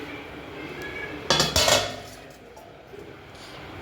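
A heavy iron tawa and a large iron kadhai are handled, giving a couple of loud, close metallic clanks and scrapes in quick succession amid a quiet room.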